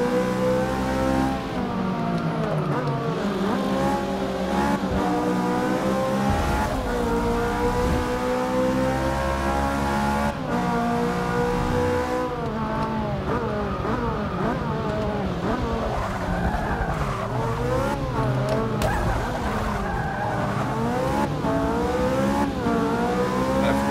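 Race car engines in the Forza Motorsport 6 video game roar loudly and continuously, revving and shifting pitch with tire squeals, and the sound carries through the whole stretch without talk.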